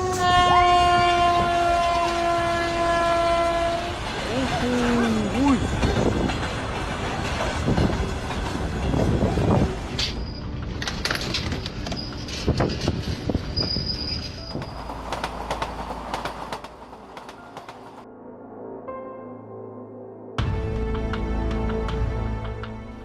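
A train rolls past on railway tracks, its horn tones sounding early before wheel clatter, squeals and rumbling carriages carry on loud and close, easing off briefly before a final burst of noise.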